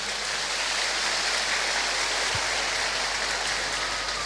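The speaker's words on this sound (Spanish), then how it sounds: "Fuerte aplauso pues" A church congregation at a Solemnity of Saints Peter and Paul service gives a steady, even wash of loud applause, with a brief low thump near the middle.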